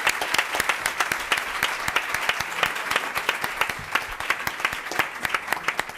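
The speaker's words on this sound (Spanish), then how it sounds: "Os pido un fuerte aplauso para Elena Barraquer." An audience at a wellbeing forum gives a warm round of applause for a guest, with many crisp individual claps over a steady crowd wash.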